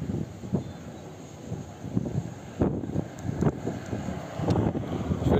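Gusty crosswind buffets a Fimi X8 Mini drone in flight, with irregular bursts of wind noise striking the microphone again and again.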